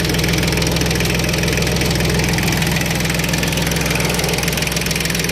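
A tractor engine runs loudly at idle, close by, with a steady, rapid knocking pulse over a thick mechanical drone and no voices.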